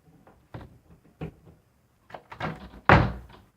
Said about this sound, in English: Tries to open the door.